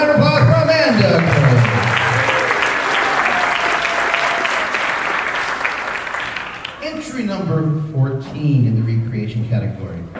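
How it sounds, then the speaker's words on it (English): An audience applauds a costume contestant at a fan convention costume contest, a dense, sustained wash of clapping lasting several seconds before fading as a voice speaks. "round of applause for Amanda"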